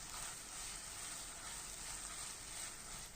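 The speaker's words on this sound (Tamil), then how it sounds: "இஞ்சி பூண்டனுடைய பச்சை வாசனை போகிற வரைக்கும் நம்ம நல்லா வதக்கி விட்டுக்கலாம்." Ginger garlic paste with whole green chillies sautés in a pan for mushroom biryani, giving a soft, steady hiss and sizzle that stays faint and even throughout, with no talking.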